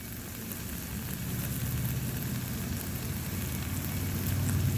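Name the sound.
bacon sizzling on a Blackstone griddle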